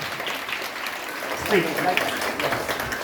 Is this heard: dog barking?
no